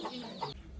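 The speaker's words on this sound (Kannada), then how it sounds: "ಕೋಳಿ ಮರಿ ಹಿಡಿಯಕ್ಕೆ ಹೋಯ್ತವ್ರು ನೋಡಿ." Chickens cluck in a short, close burst, with a few quick clucks and squawks from fowl being chased at a village fair.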